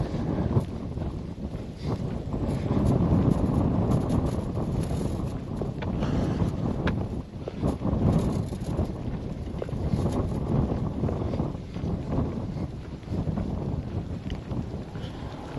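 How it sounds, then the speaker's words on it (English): Strong wind buffets the microphone outdoors, a loud, continuous rumbling roar that swells and dips in gusts and runs throughout without talk. "There's a lot of wind out today, though."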